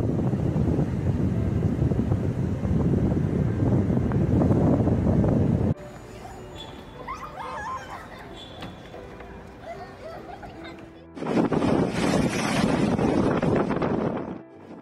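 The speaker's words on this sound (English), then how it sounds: "The Isle of Wight recorded wind gusts of 200 km per hour." Storm Eunice gusts batter a microphone outdoors in the UK in roaring, heavy bursts, drop to a quieter stretch with scattered faint sounds, then surge loud again.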